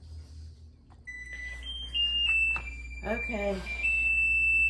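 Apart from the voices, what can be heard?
kitchen timer alarm going off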